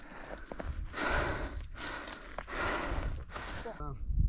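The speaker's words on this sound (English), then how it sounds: "Heavy breathing going down over there." Heavy, close breaths from someone climbing an icy ladder come in repeated loud puffs, several gasping inhales and exhales in a row, ending with a brief voiced sound.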